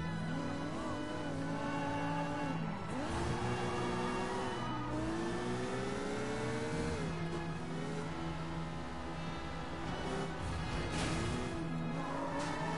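A stolen car in Sleeping Dogs drives steadily, its engine droning and rising and falling in pitch as it accelerates and shifts, a continuous loud hum with occasional tire noise and no talk.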